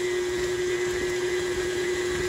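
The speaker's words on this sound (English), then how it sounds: "And then gently mix everything." An electric mixer whirring steadily through Parisian flan batter, a constant close motor drone with no talk.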